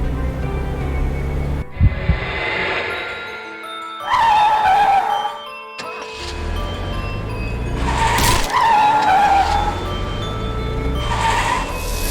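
Video game car skids from Death Mark come as repeated sharp tire squeals over engine rumble, three loud screeching bursts separated by short gaps.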